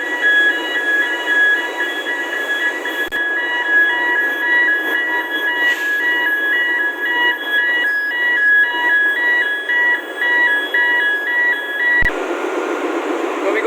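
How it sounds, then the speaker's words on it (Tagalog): Alarm sounding during a ship's annual class survey test onboard, a steady electronic tone pulsing in a regular repeating pattern over constant machinery hum, loud and continuous for most of the span before cutting off near the end. "Again, alarm activated."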